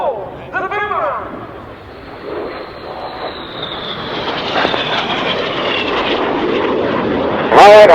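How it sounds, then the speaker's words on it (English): Red Arrows jet aircraft roar past during an air display manoeuvre at an air show, a loud sweeping jet rush that builds and rises in pitch, with someone talking over the radio and crowd noise. "Each aircraft now inverted 6 degrees nose, coming back to the display line as they complete manoeuvre called the Boomerang."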